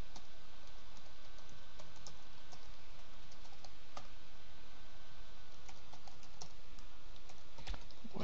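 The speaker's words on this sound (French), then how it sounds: "Et là, vous allez taper l'adresse de votre page capture." Typing on a computer keyboard to enter a web address, a steady run of light, close clicks and taps with a few sharper key strikes, no voices.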